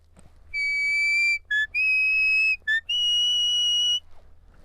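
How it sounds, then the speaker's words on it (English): A sheepdog whistle plays a short tune of clear, piercing notes, several held tones broken by quick short blips, close and loud. "One way of just practicing your whistle too is to try playing a little song"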